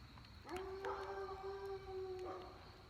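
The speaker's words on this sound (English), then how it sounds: "you hear those dogs? They are not happy about something." A dog howls in one long, sustained wavering note, with a second dog briefly joining partway through, at moderate distance.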